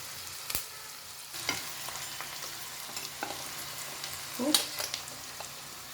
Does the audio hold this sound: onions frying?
yes